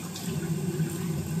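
A tap runs steadily into a sink, a continuous close splashing stream of water with no voices over it.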